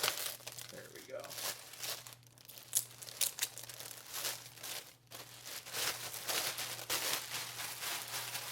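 Plastic packaging around a Vangoa VGD611 61-key piano keyboard is crinkled and torn open up close, with irregular rustling, crackling and ripping bursts over a low steady hum.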